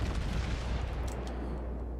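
A continuous heavy rumble from the big guns of the battleship Amagi in a naval video game. It is deep and booming, with a bright crack near the middle, then fades slightly.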